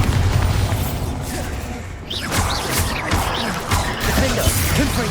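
A Bombarda spell explodes in the video game Hogwarts Legacy: a dense, rumbling blast with crashing debris that stays loud and noisy for several seconds.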